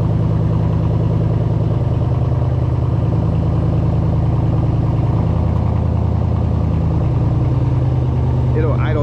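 A straight-piped 2019 Chevrolet Silverado idles after a cold start, its deep, steady exhaust burble loud and constant throughout with a slight dip partway, while someone talks over it.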